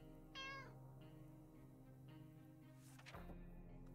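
A cat meows once, short and clear, inside the video game 60 Seconds! Atomic Adventure, over a steady humming game soundtrack, followed by a thud and a rising sweep of sound effects.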